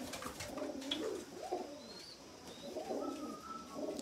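Pigeons in a loft of kept birds coo softly in repeated, rolling phrases. A few faint higher chirps come in between the coos, and no one speaks.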